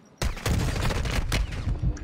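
Two squads trade gunfire in a video game, a loud dense burst of rapid automatic shots and sharp cracks that starts abruptly and keeps going throughout.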